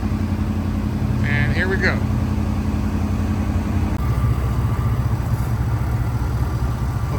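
A 1990 Chevy Caprice engine idles steadily as it warms up, a constant low rumble close by with a brief spoken remark over it.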